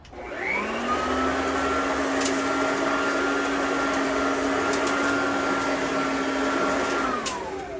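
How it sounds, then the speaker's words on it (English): A Simplicity commercial vacuum cleaner on its low setting whirs at a steady, moderate pitch, spinning up and holding an even motor drone before winding down near the end. "this is what the vacuum's supposed to sound like on level 1"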